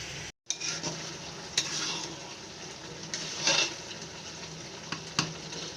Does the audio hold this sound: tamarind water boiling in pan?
yes